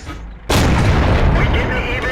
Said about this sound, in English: Decide I'll do a few experimental shots.